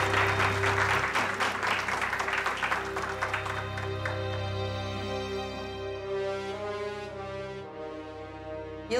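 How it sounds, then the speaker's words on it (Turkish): An audience at a formal association gathering gives a loud burst of clapping that fades over several seconds, while sustained music plays underneath and carries on after the applause dies down. "Şimdi konuşmalarını yapmak üzere değerli büyüğümüz Hünkar Yaman'ı alkışlarınızla kürsüye davet ediyorum."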